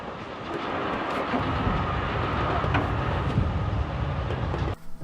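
Loud, steady rumble and rattle of a train heard from the open gap between carriages in the video game Forgotton Anne, filling nearly five seconds before dropping abruptly quieter at the end.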